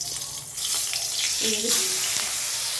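Fish going into a hot pan for grilling catch a soft, hissing sizzle that swells after a brief quieter start, with someone speaking briefly over it.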